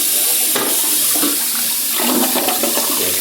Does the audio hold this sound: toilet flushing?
yes